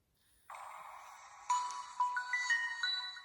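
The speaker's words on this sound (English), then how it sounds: "this one actually has the Galaxy S2 startup sound" A Samsung GT-C3520 flip phone plays the Galaxy S2 startup sound, a clean electronic chime that opens with a soft pad and then steps through bright, rising melodic tones, heard alone in a quiet room.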